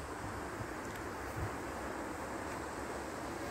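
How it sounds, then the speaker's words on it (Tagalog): A steady rush of wind blows without letup, a broad hissing roar with slight gusty swells and no voices. "Lakas ng hangin."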